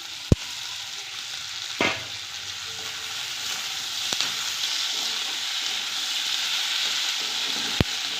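Spices and chopped tomato fry in a pan for ghugni, a Bengali pea-and-potato curry, with a steady close sizzle broken by a few sharp clicks and scrapes of stirring.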